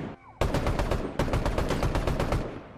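Rapid automatic fire from a lock-on pistol in Fortnite, two loud close bursts of evenly spaced shots with a brief pause between them.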